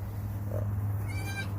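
Small young goats bleating at a goat rescue, a short nasal call near the middle and a higher wavering bleat toward the end, over a steady low hum.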